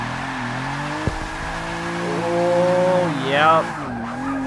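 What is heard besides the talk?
car drifting with tire squeal in a video game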